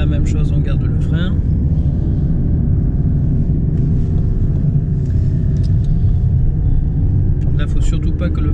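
A car descending a winding mountain road while braking before and through the bends, a steady low engine and road rumble inside the cabin, with people talking over it.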